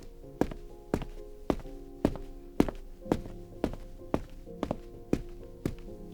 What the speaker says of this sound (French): Les bruits de pas dans une petite rue.